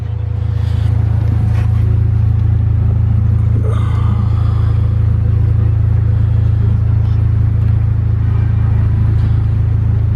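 A car engine idling steadily on E85 fuel it was not built for, a loud, constant low rumble with a slight clatter running throughout, no talking over it.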